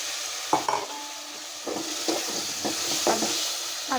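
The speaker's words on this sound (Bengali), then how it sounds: "তো আমি এখন আলুটা দিয়ে দেবো।" Potatoes tossed into a pan of hot oil for a Bengali fish curry with flat beans and tomato, sizzling steadily while a spoon stirs them in several sharp scraping bursts.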